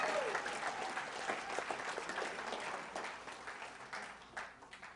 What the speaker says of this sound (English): how about we give a round of applause to Bernard for keeping it in right now